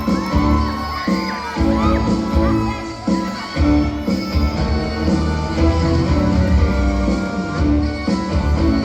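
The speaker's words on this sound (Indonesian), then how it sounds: "Beri tepuk tangan yang meriah." At a school ambassador pageant final, a lively crowd of students shouts and cheers for a class performance. Rhythmic music with a thumping beat plays loudly underneath the cheering throughout.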